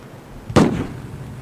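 A single sharp bang of gunfire, as from Arab snipers attacking a civilian bus in early Israel, bursts out loud and close, then trails off into a brief echoing decay.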